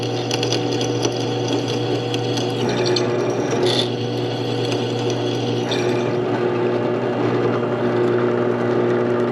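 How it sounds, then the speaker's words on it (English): A Porter Cable 5-speed bench drill press runs with a steady motor hum while its bit bores holes, giving a continuous loud whir with grinding and scraping texture throughout, and no voices. "Two really nice holes drilled."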